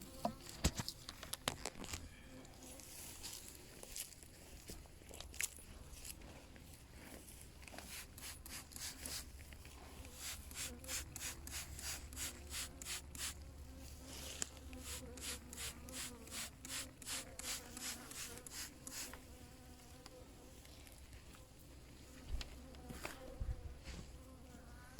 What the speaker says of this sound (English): there are a few bees buzzing around trying to warm me off